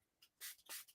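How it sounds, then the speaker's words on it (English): A small spray bottle mists water onto a fingertip at a craft table, giving two quick, close hissing bursts after a faint softer puff, quiet and without talk. "Just spraying my finger a little bit off camera."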